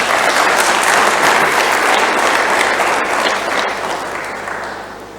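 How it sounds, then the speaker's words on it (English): A conference audience at an opening ceremony breaks into loud, dense applause that holds strong for several seconds, then begins to taper off toward the end. "Can't we clap for this?"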